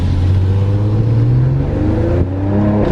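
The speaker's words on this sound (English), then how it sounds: "so it has the performance exhaust, so it's pretty loud." A car with a performance exhaust revs loudly and close, its deep engine note climbing in pitch, dipping briefly, then rising again in a throaty growl.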